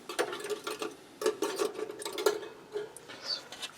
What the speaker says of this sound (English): And then I'm going to put the second rack in